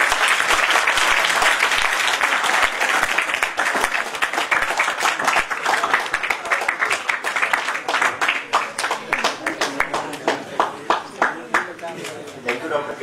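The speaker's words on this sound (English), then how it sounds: "So a big round of applause once again for him." Seminar attendees at an engineering college applaud guest speaker Dr. Kedia, a sustained round of clapping that gradually thins into scattered, distinct individual claps toward the end, with a voice speaking over it.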